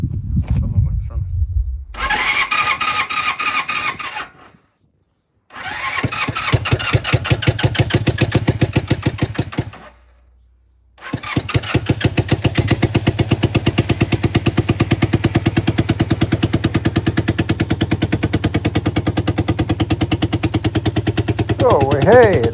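A 1979 Honda CB250N twin with no silencer fitted cranks over with a couple of false starts, then catches and runs loud and close, its rapid popping exhaust barking steadily with a few revs near the end.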